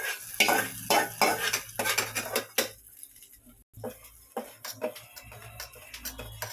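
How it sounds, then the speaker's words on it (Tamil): Hot tempering is poured into ground peanut chutney and stirred, giving a brief sizzle followed by a spoon scraping and clinking against the dish in quick bursts, a short pause, then more stirring, close by and with no talking. "இப்போ ஊற்றிடலாம். இந்த வேர்க்கடலை சட்னி அரைச்சி வச்சுக்கிறோம், அதில் ஊற்றிக்கலாம்."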